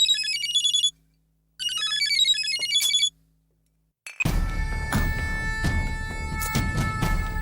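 A phone ringtone plays a bright electronic melody in two short bursts separated by a pause, then gives way to louder, busier room noise with clattering sounds.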